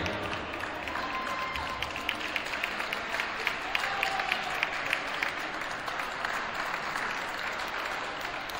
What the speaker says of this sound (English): please give a round of applause and congratulate our Red Hawk sophomores